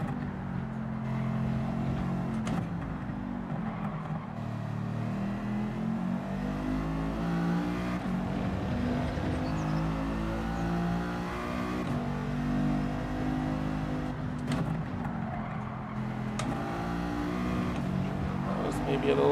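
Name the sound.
race car engine in Gran Turismo 7 video game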